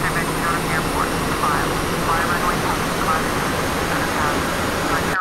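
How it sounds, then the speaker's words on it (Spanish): A simulated Airbus A320 engine starting up in the Prepar3D flight simulator gives a steady loud turbine roar and rushing whine, with faint rising tones and a voice talking over it. "vamos a ver el motor cómo arranca"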